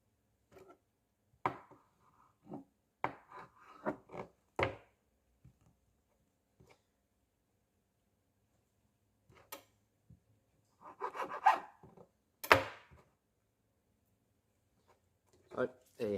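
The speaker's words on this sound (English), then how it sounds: "Squid is a tough thing, so don't cut the first time" A knife cutting tough squid into strips on a board makes short, sparse rasping and scraping strokes in clusters separated by quiet gaps.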